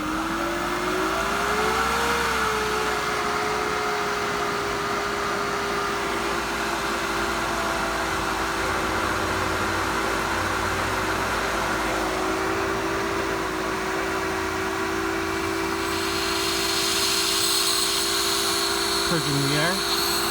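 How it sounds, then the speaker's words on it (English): A Hayward pool pump hums steadily while priming and purging air through a Pro Grid DE filter, a continuous close motor drone with a rising hiss of air and water near the end, under occasional speech. "Apply power to the pump."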